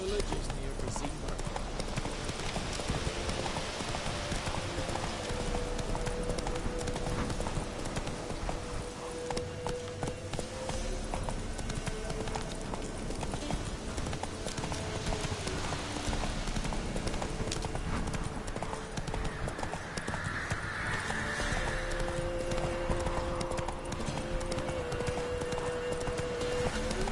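Roach, the horse in The Witcher 3, gallops with steady, rapid hoofbeats that run unbroken and close for the whole stretch, with game music and effects underneath and a brief voice partway through.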